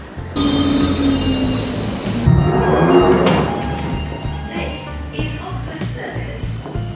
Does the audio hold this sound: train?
yes